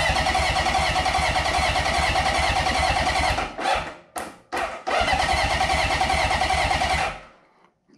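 Motorcycle engine cranking over on the starter for a compression test on a low cylinder, a loud steady rhythmic churn lasting about seven seconds with two brief pauses, then stopping.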